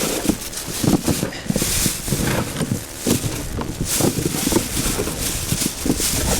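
Wind blows outdoors and buffets the microphone with a loud, gusty, rumbling roar, with faint rustling and knocking underneath and no voices.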